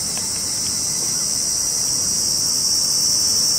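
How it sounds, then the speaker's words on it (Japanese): Higurashi evening cicadas call at sunset over Sagami Bay from a hilltop park in Zushi, a continuous high, shimmering insect chorus that holds steady throughout with no one speaking. "日暮らしの 声が"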